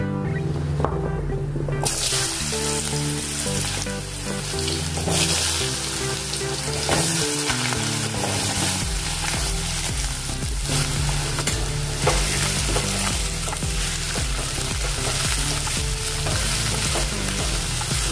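Radish pieces frying in smoking-hot oil, a loud continuous sizzle with stirring and scraping throughout, heard close over a dense musical backing.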